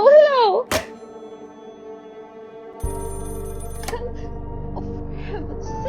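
An old telephone rings in a radio play: a sharp bell burst, a thunk as the receiver is picked up, then a steady buzzing line tone that hums on to the end. No one speaks over it.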